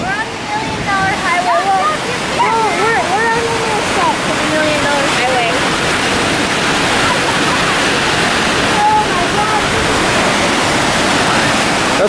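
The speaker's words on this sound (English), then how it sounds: "That's a big waterfall." A powerful waterfall in Colorado roars as a constant loud rush of water, with voices talking and exclaiming over it.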